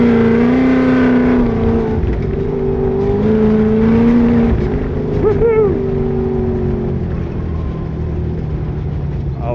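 A car with a Mendeola/Weddle S4S dogbox transmission drives and shifts into second using the clutch. The engine drones steadily and its pitch rises and falls with the gear changes, and a faint voice talks underneath.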